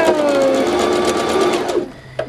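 A domestic sewing machine stitches a ribbon teether in a steady whirring run for about two seconds, close and loud, then winds down to a stop.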